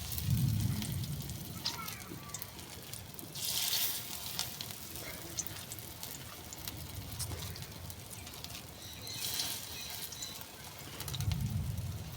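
Jute leaf and lentil fritters fry in hot oil in a wok, giving a continuous crackling sizzle with louder bursts of bubbling at intervals, heard without speech.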